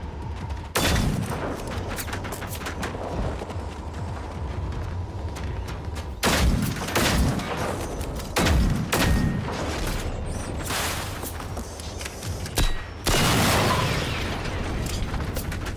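Hip-fired automatic gunfire in the Generation Zero video game, loud sustained bursts with short gaps, echoing booms and scattered single shots over a constant rumbling background.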